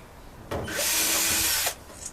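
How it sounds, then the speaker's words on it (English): A power drill spins a bit into material in one short, loud whirring burst of under two seconds, close to the listener. "Ooh, okay, this doesn't work like a normal drill bit."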